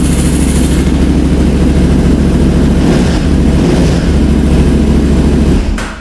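A 2010 KTM 990 motorcycle engine runs steadily at idle, loud and close, with a low droning rumble that holds for the whole stretch and cuts off abruptly near the end.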